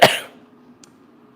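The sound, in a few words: cough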